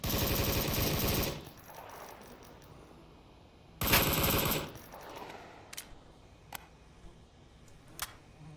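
Gunfire in the VR shooter Onward during a competitive match: two loud sustained bursts of automatic fire, each lasting about a second, separated by quieter gaps, followed by a few sharp distant single shots.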